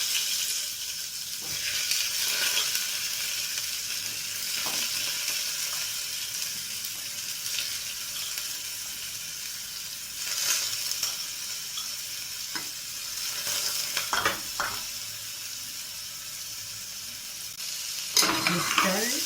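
Chicken curry gets stirred in a frying pan under a soft, continuous sizzle, with occasional scrapes and knocks of a utensil across about twenty seconds. Faint running-water sounds come up at times.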